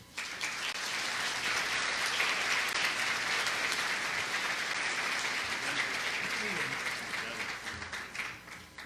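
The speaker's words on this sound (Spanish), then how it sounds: "Pues merecido el aplauso." Sustained applause from a large crowd, steady and full for several seconds before tapering off at the end.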